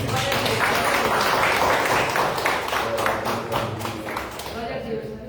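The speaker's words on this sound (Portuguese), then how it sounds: "as palmas para Jesus" A church congregation applauds during a Sunday family service, steady dense clapping filling the room for several seconds before thinning out toward the end, with voices mixed in.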